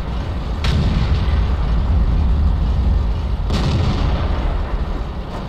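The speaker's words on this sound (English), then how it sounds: "This is running completely without any mods, so those gun sounds are evidently one of the improvements" Heavy gunfire and booming cannon blasts from a World of Tanks-style tank game on the test server with no mods, played over a loud continuous engine rumble, with two sharp reports standing out.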